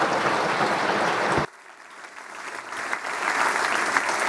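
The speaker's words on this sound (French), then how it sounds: "J'espère que vous entendez les applaudissements." An audience at a conference applauds steadily, the clapping abruptly dropping in level at about one and a half seconds, as if the feed switched, then continuing more distantly and building slightly toward the end.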